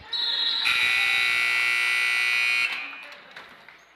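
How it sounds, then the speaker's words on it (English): A single loud, sustained electronic buzzer ends the first quarter of a junior varsity boys basketball game against Houghton Lake, blaring steadily for about two and a half seconds before cutting off into fainter gym crowd noise. "And as the end of the first quarter, Mason Ranucci getting fouled just before the buzzer went off."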